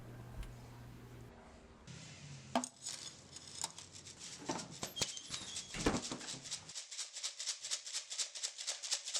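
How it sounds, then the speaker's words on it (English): A knife being stone washed, a rapid rattling of small stones tumbling against steel that builds into a steady, regular churning rhythm, fairly faint with some scattered clinks early on. "I will neutralize the acid using baking soda and then stone wash the knife."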